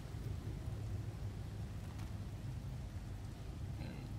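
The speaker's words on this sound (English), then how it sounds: "Acid rain." Acid rain in No Man's Sky patters as a steady, faint hiss, with a brief soft rumble partway through and a short tonal blip near the end.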